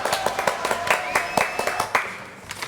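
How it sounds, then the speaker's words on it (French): Studio audience on a French television show applauds a guest, a brisk, moderate patter of distinct claps with a faint tone running underneath, thinning out toward the end. "Applaudissements donc pour Atala."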